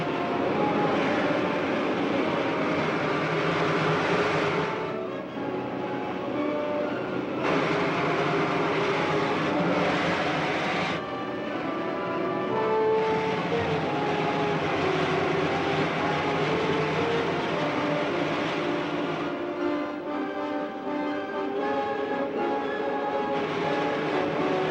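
Main jets of a lunar rocket firing in a 1952 film, heard as a loud, sustained broadband roar with a horn-like harmonic tone, continuous throughout with slight surges and dips.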